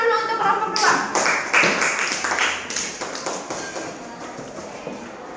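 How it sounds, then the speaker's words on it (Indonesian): Applause from a class of students for a group about to present, a dense burst of clapping that starts strong and gradually thins out over several seconds. "Tepuk tangan dulu untuk kelompok 2."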